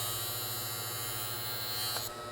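A sharpening tool's moving disc grinds steadily with a constant whirring hum and a high buzz, cutting off abruptly near the end.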